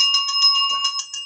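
A bell with a bright metallic ring is struck repeatedly in quick, fairly even succession, close and clear, each ring overlapping the last.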